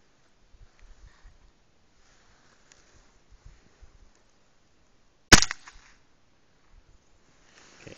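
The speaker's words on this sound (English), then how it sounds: "that is the 22 without the suppressor" A single sharp, loud gunshot from an unsuppressed .22 rifle firing Remington subsonic ammunition cracks close by, followed by a brief tail, with faint handling noises before and after.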